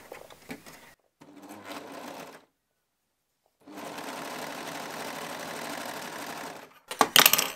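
A sewing machine stitching jersey fabric runs in steady bursts, one short run and then a longer sustained run after a silent pause, close and fairly loud, ending with handling clatter.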